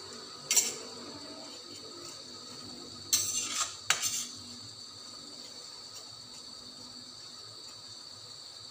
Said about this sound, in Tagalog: Siyempre, kailangan nating haluin.